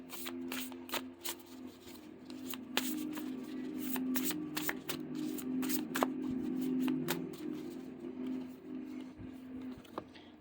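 Rapid crisp riffling and snapping of oracle cards being shuffled, repeated in bursts over a steady low hum, close and moderately loud.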